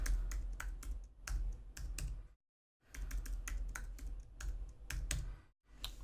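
Fingers type a password on a computer keyboard while a user is set up on a server, giving quick clusters of close keystrokes, with a short silent pause midway and no talking.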